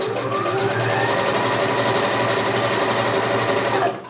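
Sewing machine running steadily in a zigzag stitch, attaching elastic along the folded edge of bikini strap fabric; a continuous, close, even motor whir with rapid needle rhythm that stops near the end.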